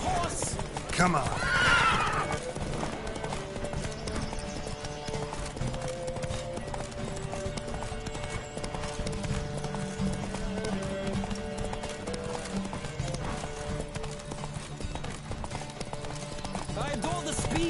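Horses' hooves pound in a steady gallop during a race in the video game Final Fantasy XV, with a horse whinnying near the start and voices talking over the racing.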